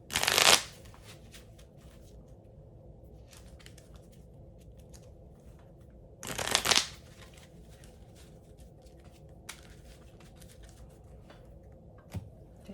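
Harry Potter trading cards are shuffled in two short, crisp riffling bursts several seconds apart, with faint table handling noises in between in a quiet room.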